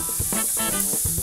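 Chicken and mushroom skewers sizzle on a barbecue grill, a close, steady frying hiss with soft crackles and pops.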